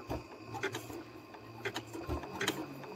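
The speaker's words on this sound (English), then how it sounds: "I'm just going to start doing the zigzag all the way around" A sewing machine running a narrow, tight zigzag stitch around the edge of a fabric postcard, a quiet close mechanical whirring with rhythmic clicks and rubbing, no voices.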